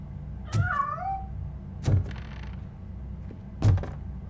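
A cat's meow in the video game Robocop: Rogue City, heard once near the start amid three heavy mechanical thumps or clanks spaced about a second and a half apart.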